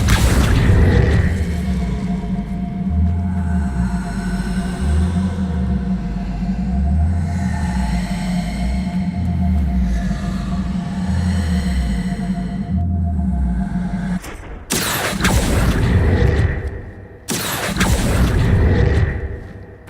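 Fire spells blasting in Hogwarts Legacy, sustained roaring whooshes with a rhythmic low pulsing, then two sharp loud bursts near the end, loud and close.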